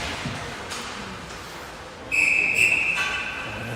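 A referee's whistle at an under-18 ice hockey game blows one sharp, sustained shrill blast over the arena's background hum, sounding loud and fairly close.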